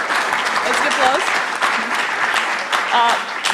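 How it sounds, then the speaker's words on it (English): Audience applause for a panel guest at a geopolitics forum, moderately loud and continuous, with a voice speaking over the clapping at moments. "Let's give applause."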